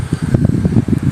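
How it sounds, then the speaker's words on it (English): Wind gusting outdoors in a natural setting, buffeting the microphone with a continuous low, uneven rumble that swells and dips throughout, with no speech. "Very windy."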